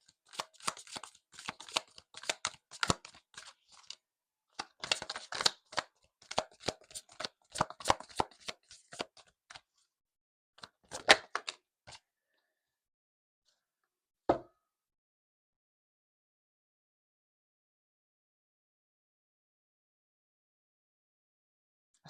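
Oracle cards shuffled by hand in a quiet room: a long run of crisp riffling and slapping bursts, then one soft tap as a card is pulled, followed by silence.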